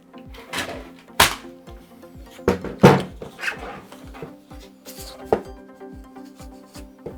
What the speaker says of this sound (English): I'm going to trim about